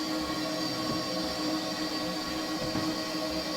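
Steam locomotive at the Northern Nevada Railroad running with its cylinder cocks open, a steady loud wash of hissing steam over low rumbling mechanical noise and faint squeals, continuous throughout.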